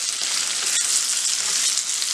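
Small pieces of boiled potato fry in a pan with salt, giving a steady bright sizzle that holds throughout, close-up, with one brief tap of a utensil.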